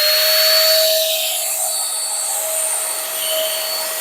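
An electric spray paint gun runs while spraying a wall, giving a loud, steady high-pitched motor drone with a slight swell near the start, continuous and close throughout.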